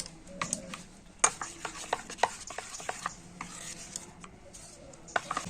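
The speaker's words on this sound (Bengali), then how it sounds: "লবণ আর নারকেল কুড়ো দিয়ে আবারও ব্যাটারটাকে একটু ভালো করে মিশিয়ে নেব।" Rice batter for chitoi pitha is stirred with salt and grated coconut, giving close, irregular scraping and wet rubbing strokes with occasional sharper taps against the container.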